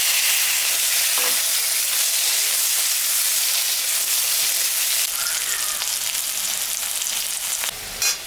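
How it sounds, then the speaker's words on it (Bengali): Potato pieces sizzle in hot oil in a pan while being stirred, a constant close frying hiss with occasional scraping clicks growing more textured toward the end, with nobody speaking. "একটা আলু দিয়েছি, আলুটা একটু ভাজে নিই।"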